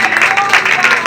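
A congregation at a Sunday Holy Communion church meeting breaks into a short, loud burst of clapping and applause lasting about a second.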